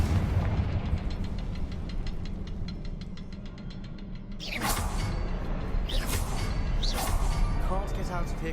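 The Confringo fire spell is cast in Hogwarts Legacy, with a rapid mechanical ticking followed by a few loud whooshing blasts and bursts over a dense game soundscape.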